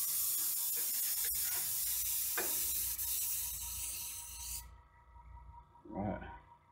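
Airbrush spraying UV reactive ChromaAir water-based paint in a heavier coat, a close steady hissing spray that cuts off abruptly, followed by faint handling noise.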